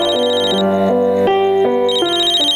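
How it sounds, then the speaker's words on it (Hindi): An incoming call sets off a loud melodic phone ringtone, a bright synthesized tune of stepped notes playing continuously and alone, from a Hindi television drama. "आ गया उसका फोन।"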